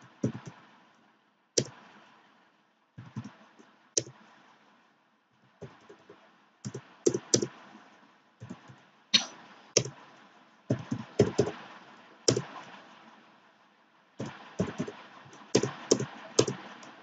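Someone types on a computer keyboard, keys clicking in short bursts and clusters separated by brief pauses, close and clear with no voices over it.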